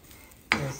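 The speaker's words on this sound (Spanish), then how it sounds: "dorando bien la cebollita" Onion browning in a frying pan for a homemade picadillo starts sizzling abruptly, a sudden hiss of frying that holds steady at moderate loudness for the remainder of the moment.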